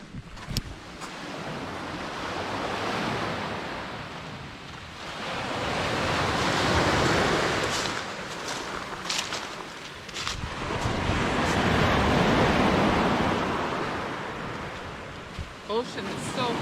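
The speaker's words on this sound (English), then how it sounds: "Ocean is so calm." Calm, flat sea with gentle ocean waves washing in slow swells, broad steady surf rising and falling in cycles, with wind buffeting the microphone.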